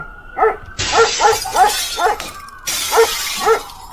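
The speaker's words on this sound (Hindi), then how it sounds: "जापान में जब कोई रात को कुत्ता भौंकता है तो लोगों को लगता है कि शायद कोई चोर आया है।" A dog barks at night in a series of about eight sharp, evenly spaced barks, loud and close, over an abruptly shifting hiss of background noise.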